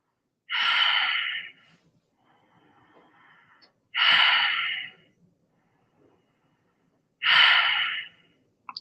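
Three slow, deep breaths during a morning breathing exercise, each a loud, close, airy rush of several seconds, separated by quiet pauses.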